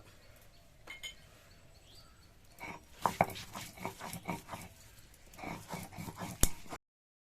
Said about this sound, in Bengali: জিরের মধ্যে আমি আদা বেটে নেব।